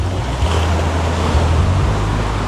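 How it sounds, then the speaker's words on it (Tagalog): Waves wash against the side of a small fishing boat at sea, a loud, close, continuous rush with heavy low rumble and wind buffeting, no talk. "May alon ng gilid, Kuya Michael."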